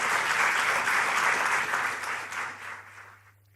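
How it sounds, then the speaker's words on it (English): An audience claps in a warm, dense burst of applause that holds steady, then thins and fades away over a few seconds, with a low hum underneath. "So please give them a big round of applause"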